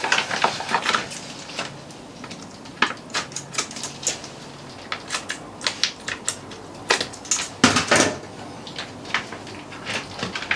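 A knife cuts open the plastic packaging around St Louis style pork ribs, giving close, sharp crackles and clicks in irregular bursts, with a louder rustling cluster near the end and no talking.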